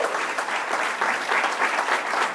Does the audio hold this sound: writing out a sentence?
no